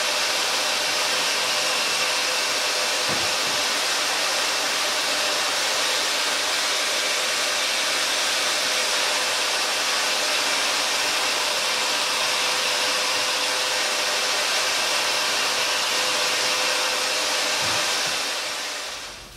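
A drill bores pocket holes into the ends of wooden face frame rails for a work table cart, a loud steady whirring roar held close for nearly the whole stretch before it cuts off at the end.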